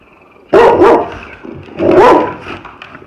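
Dogs at a ranch house bark at buzzards perched nearby: two loud, close bursts of barking about a second and a half apart, with quieter yips between.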